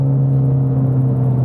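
A car with a 10-speed automatic transmission rumbles loudly and closely for a brief moment, a steady low engine drone with a slight rise in revs as it downshifts, no voices.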